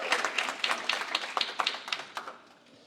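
Audience clapping at a community summit, a brisk run of overlapping claps from a modest crowd that thins out and fades toward the end, fairly close, with no one talking.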